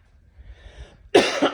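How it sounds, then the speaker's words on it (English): A single sharp cough bursts out close by in a garage, after a short stretch of faint low rumble and quiet breathing. "Excuse the cough, I have allergies."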